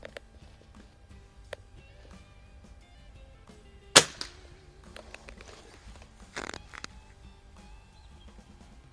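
A Crosman air pistol is fired at a 25-yard target over open sights. One sharp, short crack stands out against a quiet background, followed by a few faint clicks and rustles.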